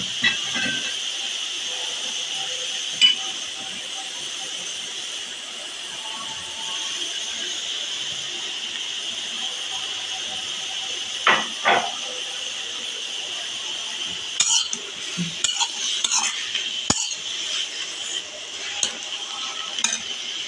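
Frying in ghee, a faint steady hiss persisting throughout, broken by occasional knocks and a cluster of stirring clatters toward the end.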